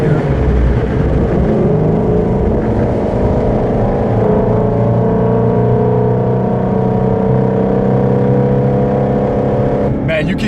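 2017 Shelby GT350 engine droning loud and steady while cornering, a sustained rumble with a shift near the end, heard from inside the car.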